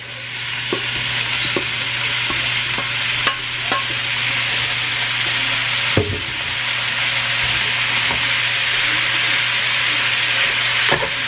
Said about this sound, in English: Now I'm going to add my meat.